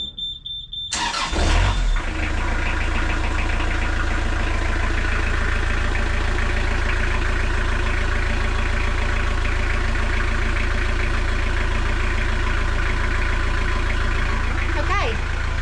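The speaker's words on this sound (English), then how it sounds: "Now we're going to check out the engine." A narrowboat engine starts after a second of quiet, then settles into a steady, loud, low rumbling idle that runs unbroken to the end.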